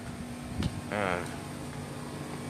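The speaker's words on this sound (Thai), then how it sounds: "ตู้แอร์ครับตู้แอร์มันดัง" Air conditioner unit running loudly with a steady broadband hum, heard at a police station while sheltering from rain; a brief whistle-like tone and a click rise over the constant drone.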